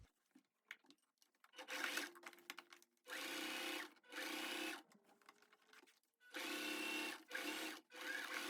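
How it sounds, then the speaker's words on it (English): A sewing machine topstitches a pocket lining close to the seam line, running in several short bursts of whirring stitching separated by brief pauses, near and clear. "stitch top stitching like about 1 millimeter, very, very close to the line"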